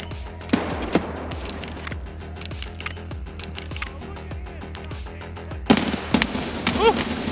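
Rapid gunfire cracks and thuds in a video game firefight, with a louder explosive burst near the end, while players talk over the action.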